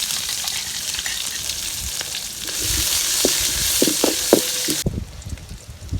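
Sliced onion with cloves, fennel, mint and curry leaves sautés in a pan for country chicken rasam, a loud close sizzle with scraping stir strokes toward the end, which quiets abruptly.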